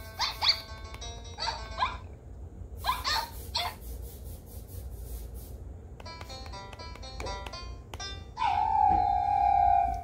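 Dog howling in the Nintendogs game on 3DS, with several short tonal howls and whimpers in separate bursts, then a longer sustained howl at the end, clear and near.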